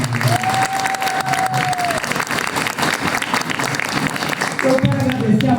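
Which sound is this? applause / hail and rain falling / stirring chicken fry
applause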